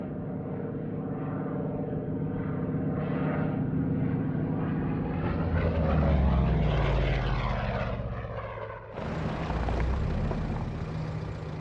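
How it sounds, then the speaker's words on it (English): Propeller engines of early P-47 Razorback fighter aircraft roar steadily, swelling louder as they pass close by and then surging again after a brief dip, with no talk over them. "These are early P-47s in service in England."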